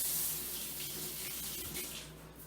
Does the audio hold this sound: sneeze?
no